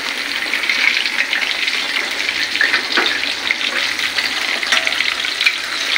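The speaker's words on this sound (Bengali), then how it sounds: "ছোটো পিসগুলো আগে ভেজে নিচ্ছে" Small pieces of meat frying for kabsa, a loud, dense, continuous close sizzle of hot oil that holds steady throughout.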